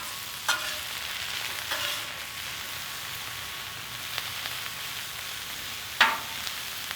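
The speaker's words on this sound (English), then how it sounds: "we're going to just keep sauteing these down" Halloumi fajita filling with peppers sautéing in oil and fajita seasoning, a soft steady sizzle in a pan with a few sharp spatula clicks and stirs.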